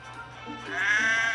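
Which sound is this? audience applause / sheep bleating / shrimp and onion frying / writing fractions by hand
sheep bleating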